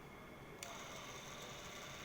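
A Bolex D8L 8mm cine camera runs with a steady, faint mechanical whir that starts with a small click and continues evenly to the end.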